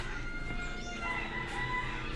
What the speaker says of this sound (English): You got the roosters.